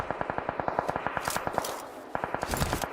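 Rapid automatic gunfire crackles in crossfire during a PUBG Mobile esports match, bursts of regular shots with slight echo, pausing briefly before a fresh burst resumes.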